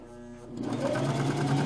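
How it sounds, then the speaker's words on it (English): A sewing machine stitching down stretch fabric, starting up and running in a fast steady whir, close and loud with no talking. "I simply Just stitch it down."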